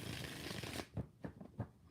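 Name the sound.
shuffling tarot cards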